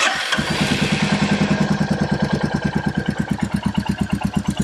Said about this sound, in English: Let's turn the bike on.